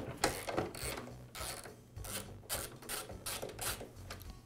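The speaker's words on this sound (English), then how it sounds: "Next, I'll loosen the belt tensioning bolt." A wrench loosens the belt tensioning bolt on a Porter Cable planer, making a steady run of rapid ratcheting clicks in an uneven rhythm, close and moderately loud.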